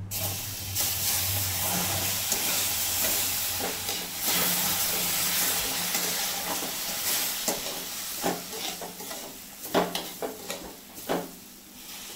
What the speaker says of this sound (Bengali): এখন এই যে অল্প অল্প করে দুধ দিব আর নাড়বো